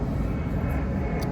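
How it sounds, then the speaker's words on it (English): An airplane passes overhead outdoors in Chicago, a brief, loud, steady low engine roar filling the open air. "So we'll let this plane pass by real quick."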